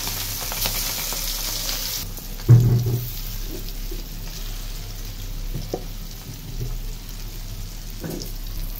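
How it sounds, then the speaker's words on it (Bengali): Marinated hilsa fish pieces dropped into very hot oil, a sizzle that swells with a brief loud burst near the start, then steady popping and crackle. "এখন তেলে ছেড়ে দিই। তেলটা কিন্তু অনেক গরম হচ্ছে।"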